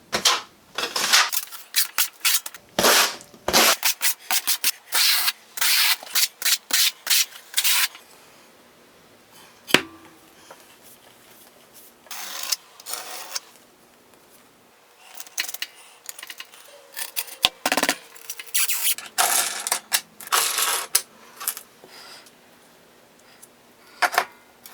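A Torque Monster tool works the caps of a tile leveling system with bursts of sharp plastic clicks and ratcheting, close and loud, separated by quiet gaps, with no talking.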